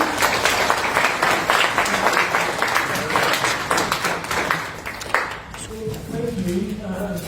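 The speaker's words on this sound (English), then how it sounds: "Round of applause, please." An audience applauds as a government minister is called up to speak at a gathering, a dense spell of clapping that thins toward the end as a voice begins talking.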